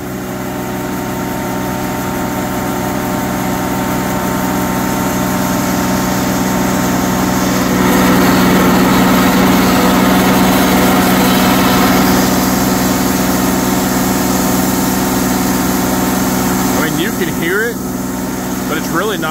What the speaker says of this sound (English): That carbide blade is just so quiet cutting through this wood.